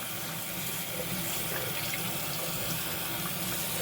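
Lukewarm water runs steadily from a tap over a doll being washed in a sink, a continuous close, even rushing stream with no pauses and no voices.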